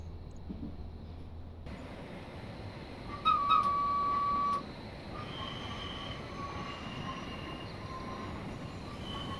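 Hamburg U-Bahn train on the U3 line in a simulator game, running steadily with constant rumble of wheels on track, a sharp sustained squeal for about a second, and faint tonal whines drifting over the rolling noise.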